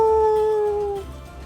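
A piercing creature howl rings out in a single long, steady, loud cry that holds its pitch and then slides slightly downward before breaking off, heard alone with no talk.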